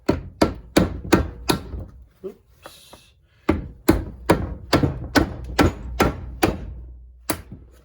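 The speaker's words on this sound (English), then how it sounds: "we'll take this and tap it with the hammer and the wood." A hammer taps a block of wood against a Harley Flathead camchest part to break the gasket seal, giving a series of sharp, close knocks in uneven bursts with a short pause and a brief spoken word.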